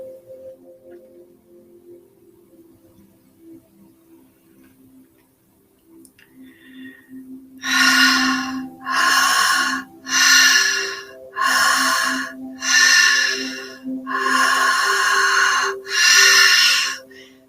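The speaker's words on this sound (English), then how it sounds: "Keep breathing." Deep, rapid breaths during a breathwork exercise, about eight loud, evenly spaced forceful breaths that arrive after several quiet seconds with a low steady hum underneath.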